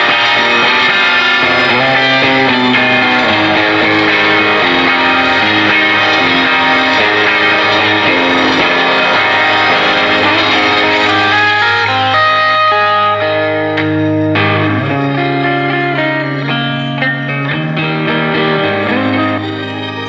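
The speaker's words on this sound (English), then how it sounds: "Let's hear some fifths modulation." Electric guitar through a modulation and delay pedal set to fifths modulation, loud shimmering layered tones with harmonised notes and echoing trails, played as sustained phrases throughout.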